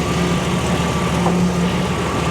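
A warmed-up Buick Grand National engine idling up close, a loud steady rumble with slight unevenness and no speech.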